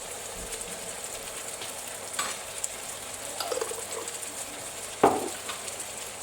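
Browned meat and chopped garlic sizzle steadily in a pan with a soft, continuous frying hiss, broken by occasional clinks and scrapes of stirring.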